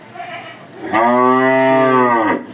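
A cow gives a single long, loud, strongly tonal moo lasting over a second, following a quieter stretch of faint background noise.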